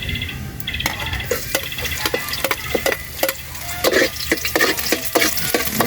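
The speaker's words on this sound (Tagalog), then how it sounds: "Guminit na yung mantika, lalagyan na natin ng bawang." Garlic fries in hot cooking oil with a bright continuous sizzle and spitting crackles, while a utensil scrapes and taps against the pan in an irregular stirring rhythm, close up with no talking.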